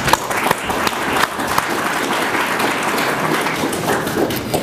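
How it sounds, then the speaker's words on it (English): Sustained applause from an audience at a military graduation ceremony for non-commissioned officers completing the Master Leader Course, dense clapping filling a hall at steady loudness throughout. "Please join me in a round of applause for these outstanding non-commissioned officers."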